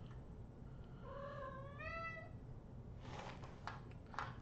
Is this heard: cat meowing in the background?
yes